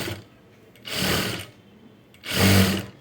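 A sewing machine runs in two short bursts, stitching self piping onto a plain-fabric blouse, each burst a whirring mechanical rattle with a brief pause between.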